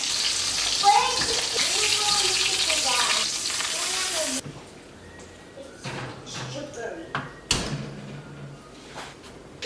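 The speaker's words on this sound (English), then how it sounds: "I have a tendency when I'm frying chicken" Steady crackling sizzle of chicken frying in a pan, loud at first then quieter with scattered clatters and pops; a voice talks over it.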